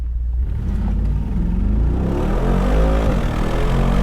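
A 2019 Mercedes G63 G-wagon launches from a stop, its engine rumbling low then climbing steadily in pitch through the gears as it accelerates hard, loud and close with no talking.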